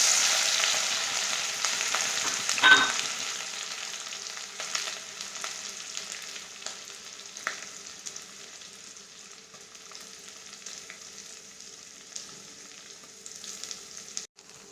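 Ginger garlic paste fries with onions in a pan for misal, a steady bright hiss that fades slowly after a brief louder burst early on, with occasional light spoon scrapes.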